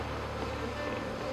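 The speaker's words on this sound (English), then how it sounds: "the other bees are coming from up in the pine tree where they settled up earlier." Honeybees swarming down from a pine tree where they had settled into a hive, a steady close insect buzz and hum filling the whole moment without pause.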